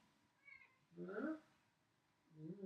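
A cat meows a few times at close range, the calls rising and falling in short bursts with quiet pauses between them.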